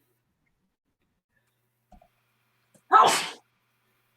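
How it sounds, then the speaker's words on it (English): Someone in a quiet room while cutting fabric gives a single loud, sharp sneeze, preceded by a faint soft exclamation and tiny stray sounds. "I feel like I'm gonna sneeze."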